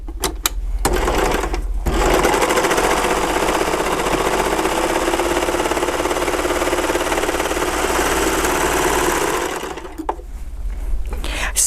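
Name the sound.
overlock sewing machine sewing a flatlock seam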